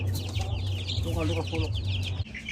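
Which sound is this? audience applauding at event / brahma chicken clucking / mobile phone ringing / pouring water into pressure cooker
brahma chicken clucking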